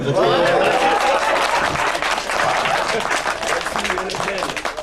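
Wedding guests applaud the bride at a Congolese-style wedding ceremony, a steady crowd clapping that fills the room, with voices and laughter mixed in throughout.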